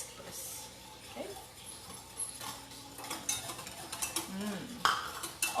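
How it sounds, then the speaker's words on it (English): Cocoa powder and malted milk powder whisked in a small pot, with quick metallic scraping and tapping of the whisk against the pot, fairly quiet at first and growing louder and busier toward the end. "I'm going to add the measured 2 tablespoons cocoa powder and 2 tablespoons of malted milk powder, and I'm going to whisk this"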